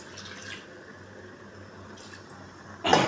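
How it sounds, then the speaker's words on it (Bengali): Water poured into a pan of cooking pufa fish: a soft trickle at the start, a second faint pour later, then a sudden louder splash and sizzle at the end. "জল টানে গেছে, এখন জল দিয়ে দিন"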